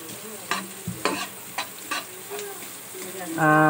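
Chicken liver sautés in butter and oil, a soft sizzle under several sharp scraping stirs of a utensil against the pan, ending in a louder tonal sound.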